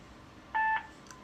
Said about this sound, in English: I think that was a fax machine also. I heard it beep.